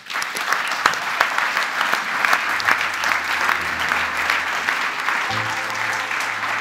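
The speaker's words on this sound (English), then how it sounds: "Please give another applause for the full team who did that." A conference audience at a talk on Neos React UI claps steadily and fairly loudly for the team throughout, with a faint low hum entering near the end.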